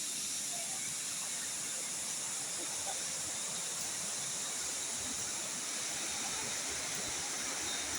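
A large river rushes over rocks on a forested hilltop, giving a steady, broad roar of flowing water that holds evenly throughout with no talk over it.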